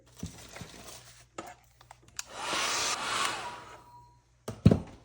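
A hair dryer blows for about two seconds on a mixed media painting layer, loud and close. Scattered taps and crinkling handling noises come before it, and a sharp knock follows.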